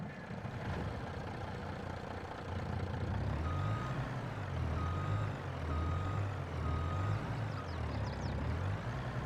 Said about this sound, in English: I think I can back the truck back over that.